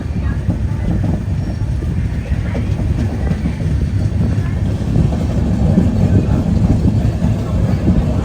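Steady rumble of a moving Mangala Lakshadweep Express sleeper train, heard from inside the coach, with continuous low wheel and rail noise and faint clatter throughout at an even, loud level.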